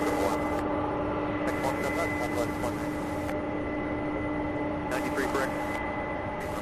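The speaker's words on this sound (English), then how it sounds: "So this next A300 here heading to RFD in Chicago." An Airbus A300 cargo jet bound for Chicago passes at Louisville International Airport beside the UPS Worldport, a continuous distant jet roar with a steady hum holding level throughout, no voices.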